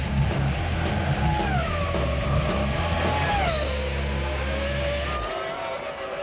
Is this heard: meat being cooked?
no